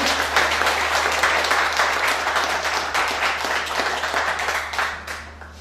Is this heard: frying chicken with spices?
no